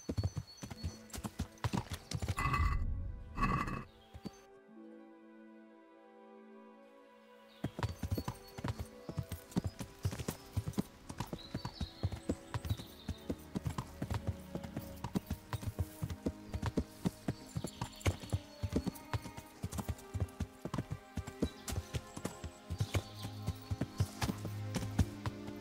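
Horse hooves clip-clop in the video game Kingdom Come Deliverance, a steady close trotting rhythm that breaks off briefly and then resumes for a long stretch, with a short whinny near the start.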